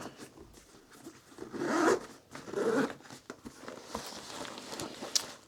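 Zipper on the carry bag of a DJI Mini 5 Pro drone pulled open in two close, rasping strokes, followed by light rustling and handling sounds, with no talking.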